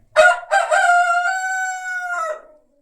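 A rooster lets out a single long, loud crow up close, its rising opening giving way to a sustained, drawn-out call that fades at the end.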